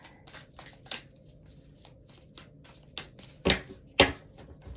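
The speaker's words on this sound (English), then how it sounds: "Just going to cut the deck." Tarot cards riffled and cut by hand at close range, a run of soft papery shuffles building to two sharp, louder snaps of the deck near the end, with no talking.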